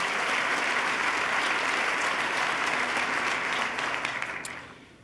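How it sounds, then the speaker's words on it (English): Sustained applause from an audience at a State of the State address, dense and even, gradually tapering off and thinning out toward the end. "let's give him another round of applause"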